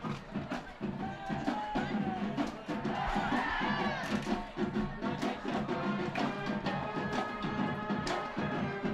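Cheer squad and crowd at a Sunnyside High School football game, a sustained loud roar of yelling and chanting voices filling the whole stretch with no break.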